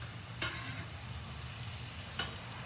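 Hamburger patties frying on a grill, a continuous soft sizzle with two brief scraping knocks, no talk.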